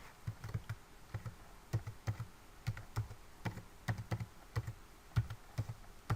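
A password is typed on a computer keyboard in close, quiet bursts of clicky keystrokes. The keys come in small clustered groups with short pauses between them, and nothing else is heard.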